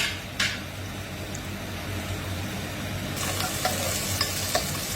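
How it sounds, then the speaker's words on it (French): Onion browning in a hot frying pan for a pasta dish with broad beans, a continuous close sizzle with soft stirring scrapes and occasional small pops and ticks, steady in level, no talking. "l'oignon commence à se dorer"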